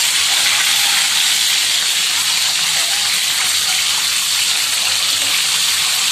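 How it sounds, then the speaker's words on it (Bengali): Salted, marinated liver pieces fry in a generous amount of hot oil, giving a loud, steady sizzle and hiss that runs without a break and with no talking. "এখন আমি এগুলো লাল লাল করে ফ্রাই করে নেব।"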